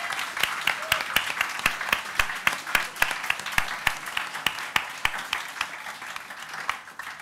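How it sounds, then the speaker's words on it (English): Steady applause from a church audience, many hands clapping continuously at an even level for several seconds. "Can we give them also just a big round of applause?"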